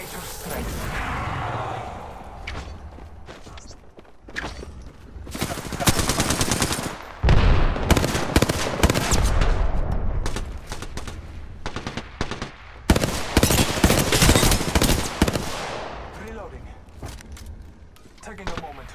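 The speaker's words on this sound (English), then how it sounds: "I'm getting shot at!" Bursts of automatic gunfire and single shots crackle through an Apex Legends firefight, loud and close, coming in dense volleys with short gaps between them, while game voice lines and talk are heard over the shooting.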